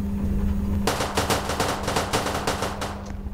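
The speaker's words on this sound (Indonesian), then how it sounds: "Suara tembak-tembakan dari mana itu?" Rapid bursts of automatic gunfire in a Roblox game rattle continuously over a low hum, starting abruptly after a brief quieter moment.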